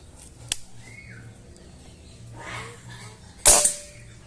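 A Predator OD 38 air rifle fires two sharp, isolated cracks about three seconds apart, the second louder and closer, over a quiet outdoor background.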